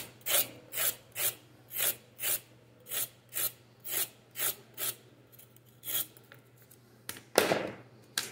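A knife scraping carrots during meal prep for steamed fish with vegetables, a close, dry rasping in a steady rhythm of about a dozen even strokes, followed by a louder scuffing handling sound near the end.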